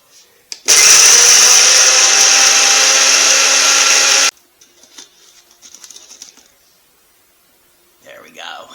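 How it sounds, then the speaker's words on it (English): A spice grinder loudly grinds fennel seeds and garlic into a fine powder in one steady burst of about four seconds, then stops, followed by faint kitchen clatter and brief talk. "we're just going to grind all this up into a nice fine powder"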